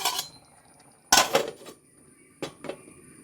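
A metal lid clanks onto a cooking pot on the stove where colocasia stem curry is simmering in coconut oil, with a sharp clatter, a rattling settle and a couple of lighter clinks after.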